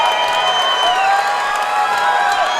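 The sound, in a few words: crowd cheering wildly for the hometown fighter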